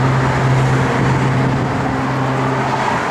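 A 1969 Chevrolet Camaro SS with a Comp cam idles nearby, giving a steady, loud, deep engine drone with a low throb that holds through the whole stretch.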